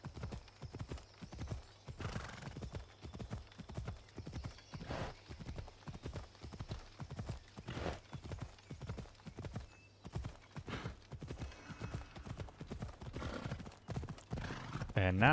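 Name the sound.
horse hooves clip-clopping while riding, from the video game Assassin's Creed Odyssey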